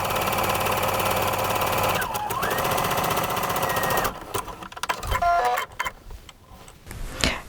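A sewing machine runs a zigzag stitch over a cord along a fabric edge, a steady close mechanical whir for about four seconds before stopping, followed by softer clicks and handling noises.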